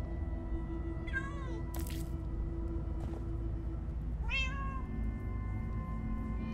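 Two clear meows from a cat in Minecraft Story Mode, each a short rising-falling cry over a steady game-music and ambient background, with a brief noisy burst between them.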